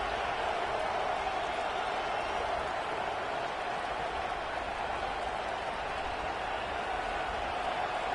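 Roaring stadium crowd at an American football game against Alabama on a first-and-goal play, a dense continuous wall of cheering and noise that stays loud and steady throughout.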